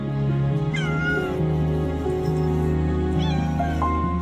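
A cat meows repeatedly and insistently on being reunited with its owner after three days away, the loud, close, drawn-out cries rising and falling over a steady background of music.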